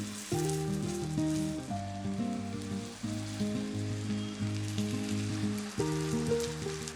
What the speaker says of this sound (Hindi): फिर मीडियम करके इसमें ये टिक्कियाँ डालते जाइए।